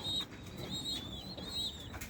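Soft, low pigeon cooing repeats a few times over a faint background hum, with a thin high tone running throughout.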